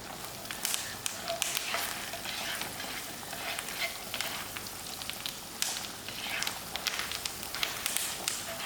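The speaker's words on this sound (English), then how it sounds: "to my butter, I'm just going to add in this garlic and let it cook out for a little while, melted butter and the garlic" Garlic and thyme cook gently in melted butter in a pan, a soft, steady sizzle dotted with small pops, fairly faint and continuous.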